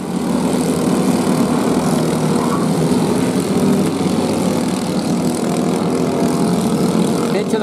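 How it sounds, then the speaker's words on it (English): Four banger racing cars roll out onto a circuit and climb a hill on a sighting lap for a junior final, their engines a loud, steady, continuous drone close by throughout. "Four bangers make their way out onto the circuit and they head up the hill to start their sighting lap."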